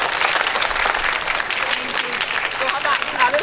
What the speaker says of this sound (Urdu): اپنی تالیوں کی گونج مجھے بتائیے